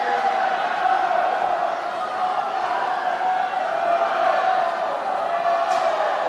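Crowd noise at the 2023 New Zealand Age Group Swimming Championships finals: a steady, loud wash of cheering and shouting in an indoor pool venue, continuous throughout without breaks.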